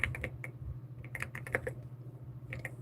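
Fingers type on a computer keyboard close by, with quick bursts of crisp key clicks broken by short pauses over a low background hum.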